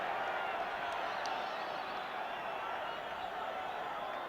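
Large Hull FC crowd at the Boulevard rugby league ground, a steady, distant roar of cheering and noise that fills the whole stretch, with a commentator's voice faintly underneath.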